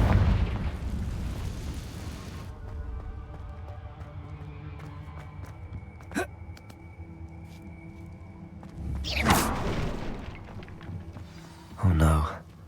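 Explosions from the Confringo blasting spell in the Hogwarts Legacy video game: a rumbling blast at the start, then two sharp, loud booms a few seconds apart, with a voice speaking and a steady game ambience underneath.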